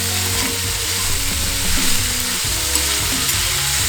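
Cauliflower sautés on high heat in a pan, giving a loud, steady sizzle with a low hum underneath and faint stirring, with no one talking.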